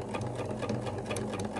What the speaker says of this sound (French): Je vais faire moi plusieurs surpiqûres.